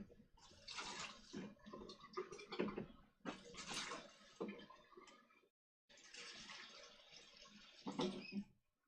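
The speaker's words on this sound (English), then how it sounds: "We're going to rinse out our graduated cylinder to make sure we get all that dye out." Water running and splashing while dye is rinsed from a graduated cylinder, two close bursts of gurgling flow with a brief pause between them, no speech.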